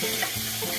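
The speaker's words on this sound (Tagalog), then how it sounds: "Just stir it." Mushroom adobo being stirred in a pan, a soft continuous sizzle with faint scraping from the spoon, quiet and close, with no talking.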